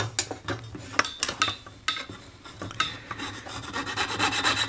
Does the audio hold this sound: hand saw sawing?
yes